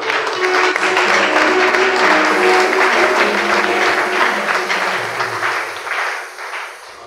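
Church congregation applauding, a dense, even wash of clapping that holds loud and steady, then fades toward the end.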